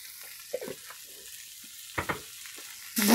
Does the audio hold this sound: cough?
no